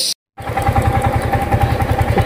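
A Yamaha MT-15 motorcycle engine runs steadily after a brief silent gap, a loud, close, throbbing rumble with an even pulsing beat and no talk over it.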